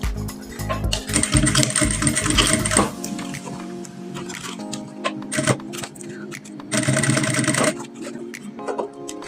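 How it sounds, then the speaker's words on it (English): A sewing machine stitches horizontal bust caging lines on a corset, running in loud bursts of rapid mechanical whirring with a short pause between runs, close and alone. "So we'll just go ahead now and sew the horizontal lines."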